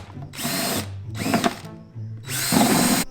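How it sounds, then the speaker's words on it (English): A power drill whirs in three short bursts, biting into a plastic tote with a grinding whine that cracks the plastic, with brief pauses between each run. "The second hole I went to drill cracked all this plastic in here"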